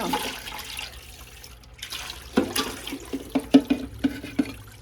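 Water from a pottery studio sink, running and splashing with a few sharp knocks and clatters near the end, close and fairly loud with no talking.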